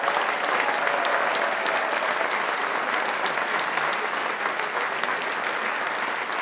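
An audience at a pop concert event applauds its presenters, sustained dense clapping from a large crowd filling the whole stretch, steady and fairly loud.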